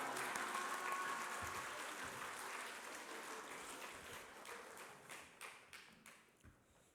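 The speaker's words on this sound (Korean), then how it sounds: "전도사님 나오실 때 우리 할렐루야 하면서 우리 박수로 맞이하겠습니다" A church congregation at a Sunday afternoon service welcomes a preacher with applause, a soft, fairly distant wash of many hands that thins into a few scattered individual claps before fading out.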